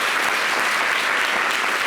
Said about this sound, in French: On va l'applaudir jusqu'à ce qu'il regagne évidemment son siège